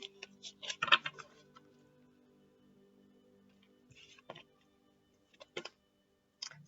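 Tarot cards are shuffled and cut in quick crisp bursts of riffling and tapping, close and fairly quiet, separated by stretches of near silence.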